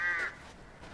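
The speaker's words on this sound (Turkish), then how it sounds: "Aa, kuş." A single harsh crow caw from the video game Resident Evil Village sounds at the very start, fading quickly into a quiet background.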